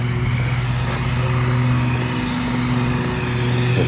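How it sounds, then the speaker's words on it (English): A grass cutter runs nearby beside a runoff pond, giving a loud, steady engine drone with a strong low hum that holds constant throughout, with no talk over it. "we're running into the grass cutter"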